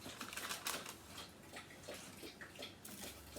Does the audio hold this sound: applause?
no